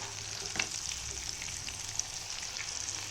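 A birds nest cutlet made with vermicelli fries in a pan with a steady, soft sizzle and a few light clicks from handling, close but fairly quiet throughout.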